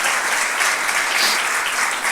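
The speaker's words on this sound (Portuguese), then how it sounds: "Salva de palmas pela vida delas." A church congregation applauds continuously, a dense, even wash of clapping from many hands.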